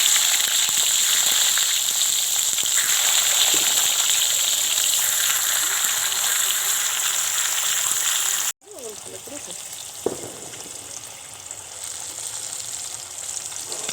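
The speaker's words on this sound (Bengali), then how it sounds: "একইভাবে বাকি চাল কুমড়োর টুকরোগুলোকে আমি ভেজে নেব।" Pieces of ash gourd frying in hot oil, a steady loud sizzle and hiss that cuts out abruptly partway through, then resumes more quietly with occasional crackles.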